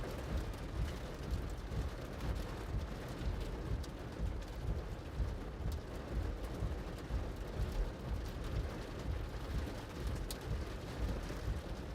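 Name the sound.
hail and rain during a Phoenix monsoon storm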